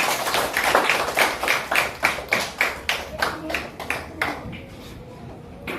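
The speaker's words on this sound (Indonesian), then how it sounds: "Tepuk tangan dulu untuk Ayunda" Classmates clap for a student in a classroom, a group clapping in a loose, steady rhythm of distinct beats that thins out and fades toward the end.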